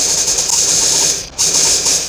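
A sewing machine stitches the hem of a nightie in a steady close-up whirr, pausing briefly near the middle and then carrying on.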